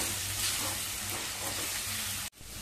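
Raw mango pieces stir-fry in hot tempering oil with asafoetida, giving a steady loud sizzle and hiss that ends with a sudden break near the end.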